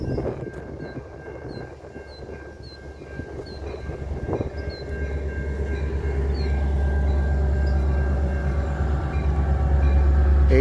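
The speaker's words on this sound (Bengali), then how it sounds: "এই যে ট্রেনটি স্টেশনে এলো।" A local train pulls into a station near an Illinois railroad crossing, its low rumble building steadily from moderate to loud with a faint high whine and scattered clanks over the rolling rail noise.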